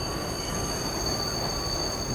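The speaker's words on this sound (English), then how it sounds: "The screech of the train pulling into the next station split the air, drowning out the rhythm of its wheels on the tracks." A train screeches loudly as it pulls into a station, steady high-pitched wheel squeal over continuous rumbling rail noise, close and unbroken with no voices.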